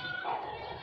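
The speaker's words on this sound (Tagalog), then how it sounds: "Ayan, laki ng aso." A big dog barks at a village house during a barangay fiesta in Naic, Cavite: one short, faint, yelping bark, slightly distant, with no clear talk.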